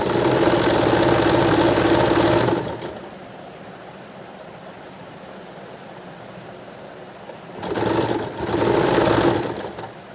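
Sewing machine running a fine stitch on a blouse, a loud steady mechanical whir that stops for several seconds of quiet, then starts again for a second short burst.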